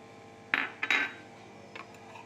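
A spoon scrapes and clinks against a bowl as semolina is added, a few quick close metallic scrapes and taps followed by a faint softer clink.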